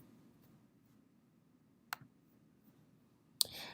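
Two sharp, isolated computer mouse clicks, about one and a half seconds apart, sound close against a quiet room background.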